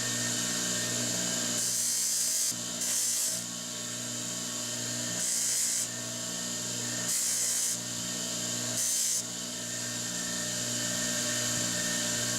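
Knife blade made from a steel file being sanded on a powered machine: a constant motor hum and whine with repeated louder hissing grinding strokes every second or two.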